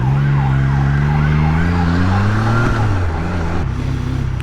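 A police siren wails in rising and falling sweeps, fairly close, over the steady drone of a Triumph Trident 660 motorcycle engine on an open road.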